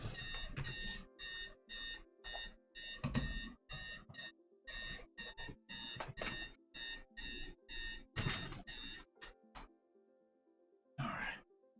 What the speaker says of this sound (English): Just 1 second, my alarm's going off.